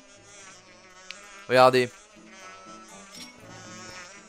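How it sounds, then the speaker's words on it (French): Bees buzz in the video game Zelda Skyward Sword, one brief loud tonal buzz against quieter game music, with a voice speaking briefly nearby. "Les abeilles nous gênent, mais je sais comment résoudre ce problème là."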